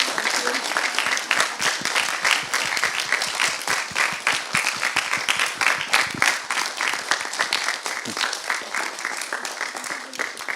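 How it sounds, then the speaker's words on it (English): A seated audience at an MSc student presentation session gives a big round of applause for a team, dense clapping that holds steady for about ten seconds with a few crisp individual claps standing out. "if we can just give a nice big round of applause for Team Umbrella"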